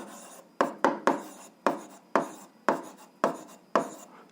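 Pen strokes on paper as an answer is written out by hand: a close series of about nine short, scratchy scribbles with brief pauses between them, no talking.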